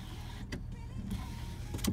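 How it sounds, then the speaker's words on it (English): Electric rear sliding window on a 2017 Ram 1500 BigHorn EcoDiesel pickup, a steady low motor whir running alone for about two seconds with a couple of faint clicks. "Rear sliding window."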